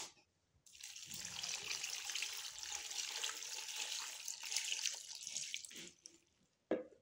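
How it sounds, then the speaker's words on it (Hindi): Water poured into a clay handi cooking pot, a steady close splashing rush lasting about five seconds, then a short clink near the end, with no talking. "पानी इसमें मैं डालने लगी हूँ इतना कि ये अच्छी तरह से इसमें डिप हो जाए।"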